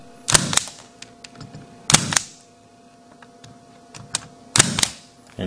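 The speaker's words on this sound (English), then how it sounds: "Now I'm going to punch it down, but as I punch it down, it's going to cut the excess off." A punch-down tool seats wire into a network patch panel and trims the excess: three sharp, close snaps spaced a couple of seconds apart, with faint clicks and handling sounds between them.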